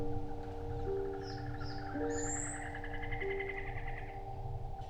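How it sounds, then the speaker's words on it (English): Many unfamiliar jungle birds call together in Costa Rica, with layered whistles, trills and chirps over a steady insect and water hum, a couple of clear high calls standing out nearby. "You just start to notice all these different sounds, all these birds you've never heard before."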